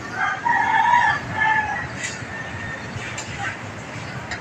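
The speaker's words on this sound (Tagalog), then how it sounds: "dito nang galing yung ibon natin" A rooster crows once from a short distance, its drawn-out call rising over a noisy outdoor background, followed by scattered rustling and faint voices.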